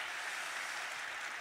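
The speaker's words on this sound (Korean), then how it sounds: "여러분 다시 한번 박수 보내주시면 고맙겠습니다" Steady crowd applause after a taekwondo performance at a ceremony fills the whole stretch, a dense continuous wash of clapping at moderate level with no voices.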